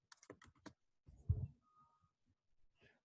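A computer keyboard gives a quick cluster of light key taps, then a duller thump and a few faint scattered clicks, close and quiet.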